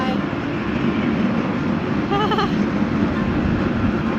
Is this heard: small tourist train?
yes